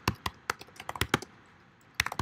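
Quick bursts of clicky keystrokes on a computer keyboard, typing a code comment, in close irregular clusters with a short pause midway.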